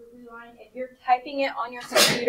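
One sharp sneeze bursts out at the end, right after a teacher's voice during an algebra lesson.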